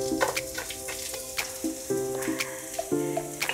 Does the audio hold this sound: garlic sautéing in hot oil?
yes